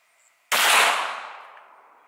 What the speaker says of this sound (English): The first bullet we're gonna shoot is the Winchester White Box 147 grain.